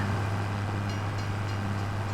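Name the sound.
train passing in video game Farming Simulator 25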